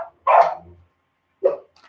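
A dog barks twice up close, a loud sharp bark followed after a pause by a shorter, softer one, with no one talking.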